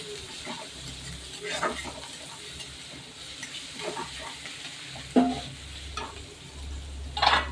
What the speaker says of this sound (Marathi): कांदा कढीपत्ता जिरी मोहरी छानपैकी तडकून चांगलं परतून घ्यायचं